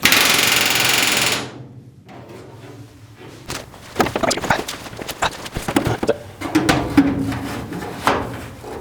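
A rivet gun sets rivets in aluminum skin on an RV-7A aircraft wing, with a loud buzzing burst, then a series of sharp, close rattling hammer bursts and clatter in irregular rhythm.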